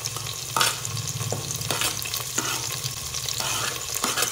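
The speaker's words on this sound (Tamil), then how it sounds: "நல்லா பொரியுது" Small onions and garlic fry in hot oil in a pan, with a steady close sizzle and the repeated scrape of a spoon stirring through them.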